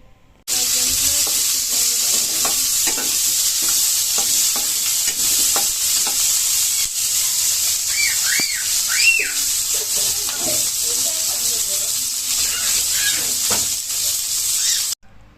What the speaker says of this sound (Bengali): গরম তেল এবং পেঁয়াজের মধ্যে শুটকিটা দিয়ে দিচ্ছি, দিয়ে ভালোভাবে তেলের সাথে ভেজে নিচ্ছি।